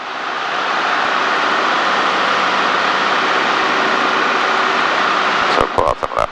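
A Cessna 152 engine drones steadily in flight, loud and constant from inside the cabin, with a few brief knocks and bumps near the end.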